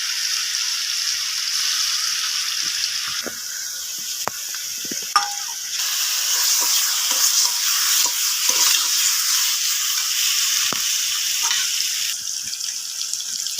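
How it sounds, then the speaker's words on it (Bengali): Rui fish frying in a pan over a village cooking fire gives a loud, continuous hissing sizzle with occasional clicks and pops, steady throughout with no speech. "এখন রুই মাছ প্রথমে ভাজি করা হতেছে"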